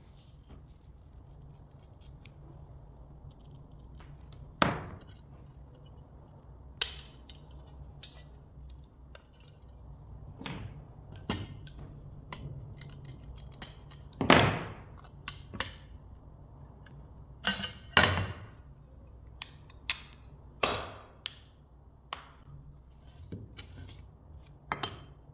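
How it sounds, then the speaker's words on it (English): Iridescent granite glass being scored and cut for the wings of a stained glass bee, heard as sharp, scattered ticks and snaps with a few louder cracks over a quiet workshop hum, no talking. "Here I'm straight into cutting the wings of the bee, and I'm using this iridescent granite glass."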